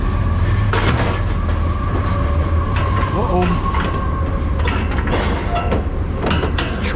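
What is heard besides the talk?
passing train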